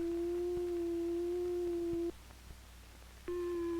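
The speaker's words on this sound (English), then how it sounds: "This is a sine wave." A steady pure sine-wave tone from an electronic oscillator holds for about two seconds, falls silent briefly, then returns with added higher overtones.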